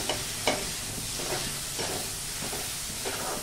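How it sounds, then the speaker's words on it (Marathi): Onion and garlic sautéing in a pan, with a steady frying sizzle and repeated soft scraping strokes of a stirring spoon, close by and fairly quiet. "हे छान परतून घ्यायचं आहे कांदा आणि लसूण"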